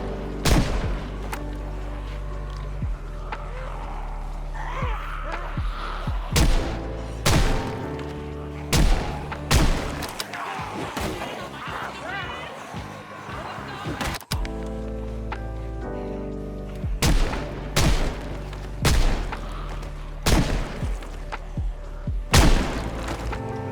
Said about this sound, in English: I tried thinning the horde, but my gunshots only attracted more.